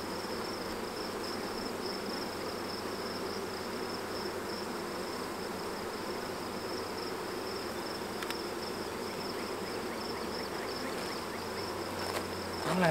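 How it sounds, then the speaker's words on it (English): A honeybee swarm drones steadily and densely throughout, a continuous close buzzing of many bees in a swarm trap on a hot 90-degree day, with no talk. "This is a really, really good swarm."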